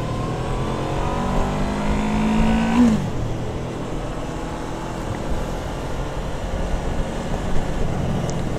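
Motorcycle engine revving up hard in traffic as the rider fails to shift gear, a rising whine that abruptly cuts off, followed by lower rumbling street noise.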